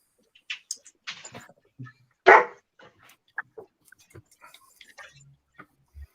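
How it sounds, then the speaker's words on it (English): A dog makes a few short, sporadic vocal sounds, one louder bark-like burst standing out among faint scattered noises in an otherwise quiet room. "Oh, doggy!"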